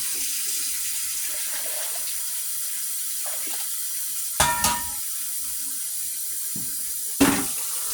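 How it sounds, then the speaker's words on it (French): Water poured from a tap into a cooking pot, a thin steady stream running under low background hiss, with a few louder clanks and splashes from the pot midway and near the end. "Je vais ajouter de l'eau ici."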